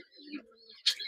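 A domestic pigeon held by its seller gives a soft, low coo close by, followed by a brief sharper rustle near the end; no one speaks.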